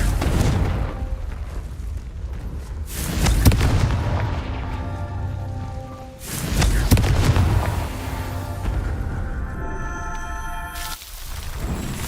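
Confringo fire spell explosions in the Hogwarts Legacy video game, loud booming blasts that come in two main bursts, each followed by a rumbling tail and bright ringing tones, with no speech.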